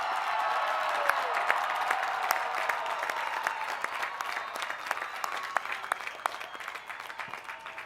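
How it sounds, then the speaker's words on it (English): A large crowd applauds the Cal Poly Pomona College of Business Administration graduating class of 2014 at a commencement ceremony, with steady dense clapping and scattered louder claps filling the whole stretch. "how about a big round of applause for the graduate class of 2014?"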